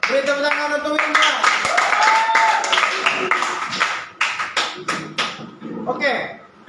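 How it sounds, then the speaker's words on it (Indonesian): An audience at a student preaching festival at a theology school claps for a participant: scattered, uneven handclaps of moderate loudness mixed with voices talking, thinning into separate claps toward the end. "Beri tepuk tangan untuk Winda."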